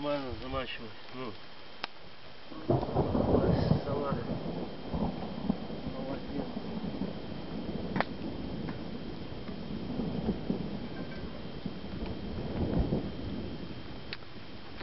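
Low rumbling thunder rolls in from a distance, swelling and fading over several seconds, with faint buzzing insects and a voice in the background.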